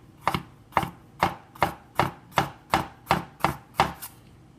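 A heavily used ZHEN C7PS 10.5-inch Gyuto chef knife chops in about ten crisp, evenly spaced strokes onto a cutting board, each a sharp knock with a brief slicing edge, close and clear.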